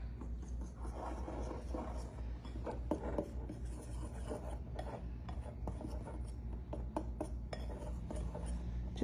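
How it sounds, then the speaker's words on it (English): Quick whisking of ground cinnamon and ground nutmeg into dry muffin ingredients in a bowl, a steady faint scratchy rasp with small clinks throughout, close and quiet. "we're gonna give that a quick whisk together"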